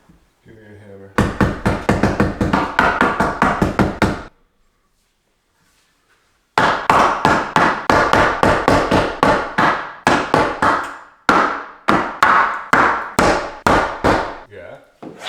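Hammering during a DIY kitchen window installation in a home remodel. Rapid, loud, sharp blows come in fast runs, pause for a couple of seconds, then resume in long bursts and a final flurry.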